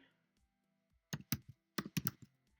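A few keystrokes on a computer keyboard while typing a title, quiet and close, coming in a short uneven cluster after near silence.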